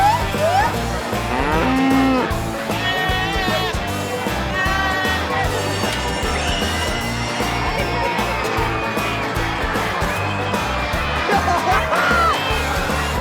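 Cattle low at an annual farm fair near Sacramento, repeated long moos carrying over a busy, noisy background with some music and crowd sound.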